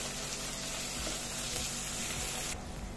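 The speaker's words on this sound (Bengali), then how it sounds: "এয়া মই গোটেইখিনি ভালদৰে ভাজি ল'লোঁ" French beans and other chopped vegetables, with tomato and onion, fry in a hot pan, giving a steady, dense sizzle that hisses evenly throughout with only faint stirring noises and no talk.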